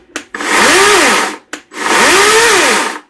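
An EGO CS1600 56-volt battery chainsaw revs up twice with no cutting, each burst a loud, close electric whine that rises, holds about a second, then winds down, preceded by a click of the trigger.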